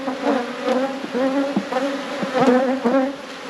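Honeybees on a hive frame buzz in a close, wavering drone that rises and falls as individual bees pass near, with no talk.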